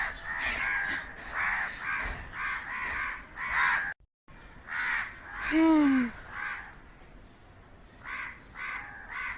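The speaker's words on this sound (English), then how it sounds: "So many crows." A large flock of cartoon crows caws in a dense, near and loud chorus of harsh repeated calls, broken by a brief silent gap partway through, with one sliding squawk rising out of the racket.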